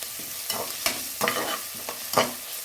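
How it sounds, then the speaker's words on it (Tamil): Crushed black pepper, cumin, garlic and a piece of cinnamon are stirred in a hot pan with a gentle sizzle, marked by about half a dozen distinct spatula scrapes at an uneven rhythm, close and clear. "மிளகு, சீரகம், பூண்டு, ஒரு பட்டையை நம்ம நுணுக்கி வச்சு அப்படியே போட்டு வதக்கிக்கோங்க."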